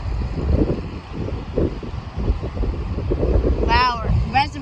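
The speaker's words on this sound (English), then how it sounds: "It's very windy today." Strong gusting wind outdoors beside a fast-flowing creek near a draining dam reservoir, rumbling buffets hitting the microphone in uneven surges, with a brief burst of voices near the end.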